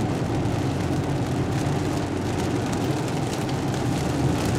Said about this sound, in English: it's pouring pretty good